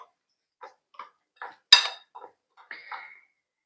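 Mixing salt, mustard and dal for a sweet raw mango pickle, a spoon scraping and clinking against a metal bowl in a few separate strokes, one sharp clink louder, close up and otherwise quiet.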